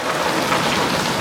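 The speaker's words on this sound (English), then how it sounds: "More rain now" Heavy monsoon rain pours down during a storm in Phoenix, Arizona, a loud, steady, dense hiss of drops drumming on surfaces, continuous and close, with no voices.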